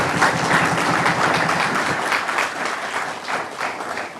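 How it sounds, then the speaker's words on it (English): An audience breaks into a full round of applause at a conference session, dense steady clapping from many hands filling the room, loud and close, with no voices over it. "please, a round of applause"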